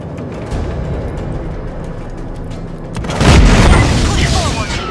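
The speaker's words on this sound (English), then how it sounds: "Destroying the turbine opened the cooling tunnel failsafe." A cooling turbine is blown up in Just Cause 3, with a loud rumbling blast swelling up around the three-second mark over steady game noise and music, then slowly settling.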